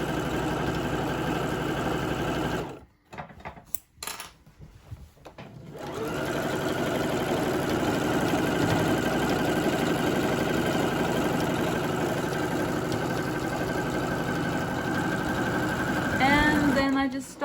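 A serger stitches a seam along wide trousers in a steady, loud mechanical whir that runs almost the whole time, broken by a short pause early on before it starts up again and keeps going.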